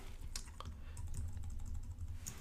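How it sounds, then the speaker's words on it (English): Computer keyboard typed on in quick bursts, a close, faint patter of plastic key clicks with a few louder strokes and brief gaps, with no voices. "and then I'm going to type in"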